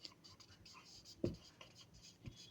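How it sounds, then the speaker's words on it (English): Pen scratching across paper as a name is written by hand, faint short strokes close by, with someone speaking softly over them. "I will write the name here."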